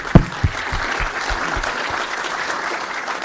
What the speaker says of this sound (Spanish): Y eso merece un aplauso.